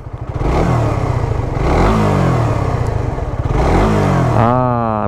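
A Suzuki GSX-R150 motorcycle engine revs up sharply several times, rising and falling in pitch, close and loud, with a final high-pitched rev at the end.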